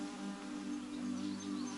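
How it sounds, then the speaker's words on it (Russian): Bumblebee or wasp flying inside an abandoned village house, a steady, close insect buzz with a droning hum that wavers slightly in pitch, heard alone without talk. "Шмель, оса."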